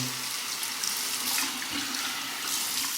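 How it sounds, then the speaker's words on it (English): A bathroom tap runs steadily for rinsing after a shave, a close, continuous hiss of water splashing into the sink with small fluctuations and no talk. "A final rinse with warm and then cold water."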